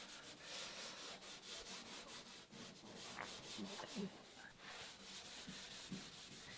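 Steady rhythmic rubbing of sandpaper on the wooden hull of a Catalina Wherry boat, back-and-forth scraping strokes repeating at an even pace, fairly quiet and close.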